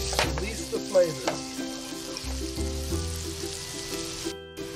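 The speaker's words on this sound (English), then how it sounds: "as the butter melts, we're gonna add in our garlic, minced garlic" Minced garlic sizzles steadily in melted butter in a pan, a close, continuous frying crackle with a few brief clinks and stirring sounds, and faint steady tones running underneath.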